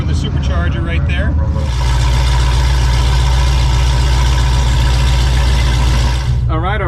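A Dodge Hellcat fitted with an aftermarket Whipple supercharger and nitrous injection runs steadily at a loud, droning idle for several seconds, with a voice speaking over the start and the end.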